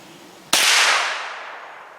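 A single sharp gunshot from a Ruger PC Carbine cracks loudly nearby during group shooting, with a ringing tail that fades over about a second and a half.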